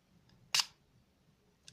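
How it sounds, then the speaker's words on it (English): The shutter of a Smena 8M camera releases in a single sharp, close click, followed by a faint tick about a second later in a quiet room. "Release the shutter."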